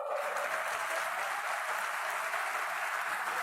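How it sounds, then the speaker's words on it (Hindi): A crowd claps at a political rally in Meham with Chief Minister Saini, a faint, even wash of many hands heard from some distance, continuous and unbroken, with no voices on top. "ताली भी बजा दो।"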